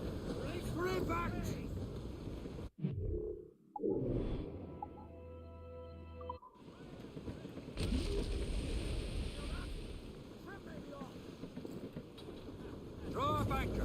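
Wind gusting over a sailing ship at sea in Assassin's Creed, a broad steady rush with creaking and spray, briefly cut away midway, as crew shout orders over it.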